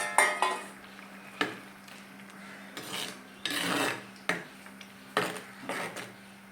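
Lentils being stirred into curry in a metal cooking pot, with intermittent scraping and rasping of a utensil against the pot in short bursts, close and moderately quiet, with no talking.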